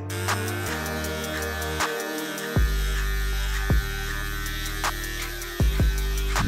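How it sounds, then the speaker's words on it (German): Electric beard trimmer set to 8 mm cutting through a full beard, a close, steady buzzing hum whose pitch dips and jumps repeatedly as the blades meet hair, with no talking. "einfach gerade immer schön nach unten trimmen, denn ihr habt das Ding ja auf 8 mm stehen"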